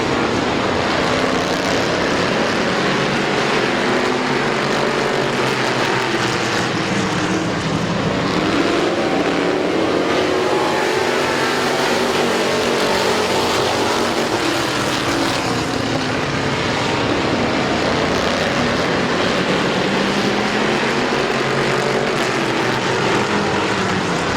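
Race cars roaring around Midvale Speedway, a loud continuous engine drone rising and falling as the pack sweeps past, sustained and powerful throughout with no voices over it.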